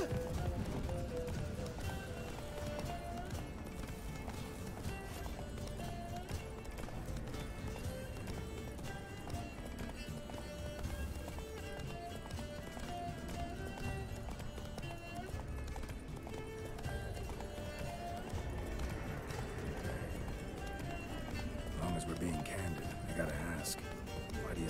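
Roach the horse gallops with a steady rhythmic clip-clop of hooves in The Witcher 3, continuing throughout while people talk over it.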